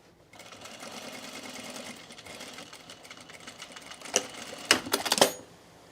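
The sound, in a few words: sewing machine stitching a canvas seam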